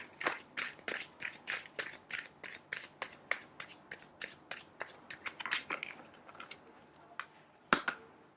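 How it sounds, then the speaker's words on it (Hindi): Tarot cards are shuffled close up in a quick, even run of about twenty crisp flutters that slows and thins toward the end, capped by one sharp snap. "थोड़ा शफल"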